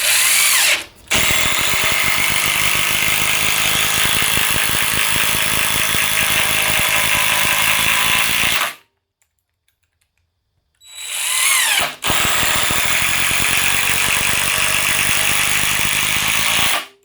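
Ryobi One+ and DeWalt 18V impact drivers hammer loudly and continuously in a race, a dense rattling whir that runs for several seconds, stops briefly into silence, then starts up again just as loud.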